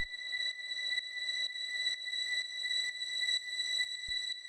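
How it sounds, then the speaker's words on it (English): Sustained high-pitched synth string sample in a tech house track, holding steady, bright and thin, with a faint pulsing rhythm underneath. "It's just this nice high string sample, like a very deep house sort of."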